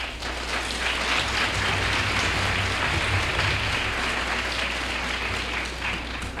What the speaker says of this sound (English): everyone here deserves a big round of applause for themselves.